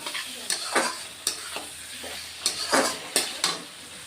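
Rohu fish simmers in a mustard sauce in a pan as water goes in, with a steady sizzle broken by repeated scraping stirs at close range and no talking.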